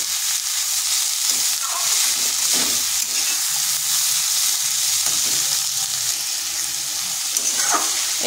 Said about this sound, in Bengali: এটাকে বেশ কিছুক্ষণ এইভাবে নেড়ে নেড়ে ভেজে নিতে হবে।